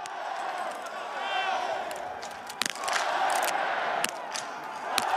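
Spectators in the Grand Bornand biathlon stand applauding and cheering, a broad crowd roar with sharp claps and knocks, heard under a commentator talking.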